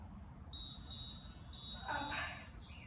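A workout timer goes off during a BOSU ball HIIT session, giving a few faint, short electronic beeps at spaced intervals over quiet room noise.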